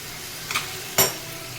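Ivy gourd roasting in a pan, with two short bursts of stirring and sizzling about half a second apart, the second louder, over a faint steady background.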